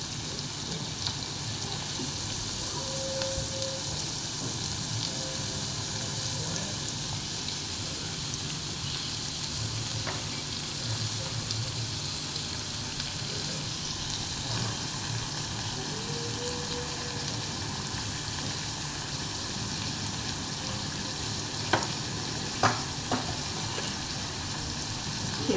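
Onion cooks in oil in a pan while preparing a dill greens dish, a soft, steady sizzle that continues evenly and faintly for the whole stretch, with a few small clinks near the end.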